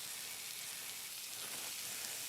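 Burger patties sizzle in a hot pan, a soft, steady crackling hiss heard alone at low volume.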